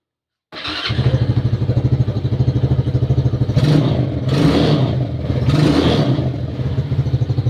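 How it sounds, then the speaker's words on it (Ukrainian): A motorcycle engine catches after a moment of silence and settles into a loud, close, throbbing idle, with a few brief blips of throttle rising over the steady beat. "Двіг стоп і заводка."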